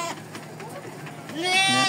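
Sheep in a pen on a farm in Porto Feliz, São Paulo, give a loud, close bleat near the end, after a stretch of quieter shuffling and murmuring that may include voices.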